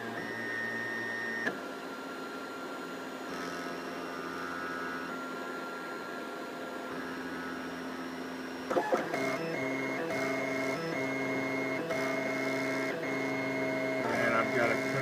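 A 3D printer prints a 20mm test box at 25% infill, with steady stepper-motor whines and shifting tonal hums; the pitch changes abruptly partway through as the head switches moves.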